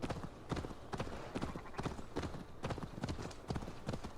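Horse hooves clop in the video game Assassin's Creed Valhalla, a brisk steady rhythm of close, even hoofbeats at a trotting pace, continuous throughout at moderate level.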